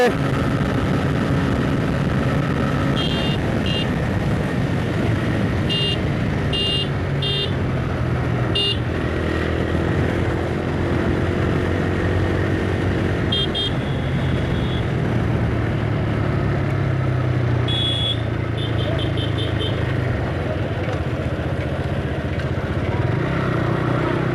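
A TVS Raider 125cc motorcycle runs at full throttle in a long road race against a Fazer 150, its steady, loud engine drone blending with wind rush and a few short horn toots.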